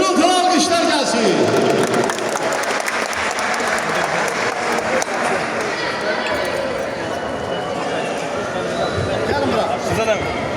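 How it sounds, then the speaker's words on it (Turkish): Loud audience applause at an event in Aghdam, a dense, sustained burst of clapping from a crowd with some chatter underneath, steady and close for the whole stretch. "Gürültülü alkışlar gelsin."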